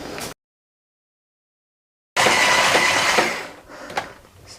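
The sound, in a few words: whisking cream to soft peaks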